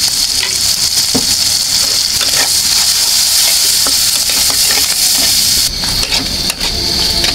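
Turmeric, cumin, chilli powder and green chillies frying hard in a pan for a pointed gourd and shrimp dish, a loud continuous sizzle with occasional stirring clicks.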